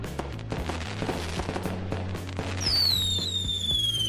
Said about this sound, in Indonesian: Ini kembang api dan unggulan nih.